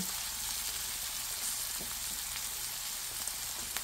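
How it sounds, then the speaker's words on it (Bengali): Chopped onions sizzle in hot oil in a pan, a steady, moderately quiet frying hiss through the whole stretch with faint crackles and no voices, while lentils and rohu fish are being cooked. "এখন পেঁয়াজটা একটু ব্রাউন কালার করে নেব"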